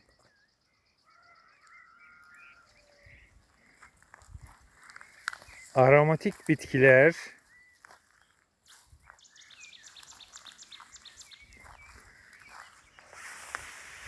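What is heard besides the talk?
birds singing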